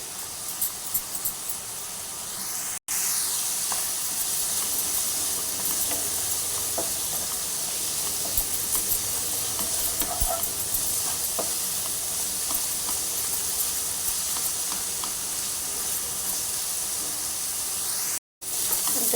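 Spinach and green chillies sizzle steadily in a pan, a continuous loud frying hiss with occasional stirring clicks and two brief cuts.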